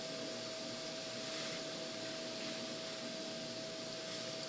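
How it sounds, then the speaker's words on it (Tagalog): A countertop blender runs at breakfast time with a steady, even whirring drone that holds from start to finish, fairly quiet and with no voices. "Ito yung ginagamit kong mag-blend."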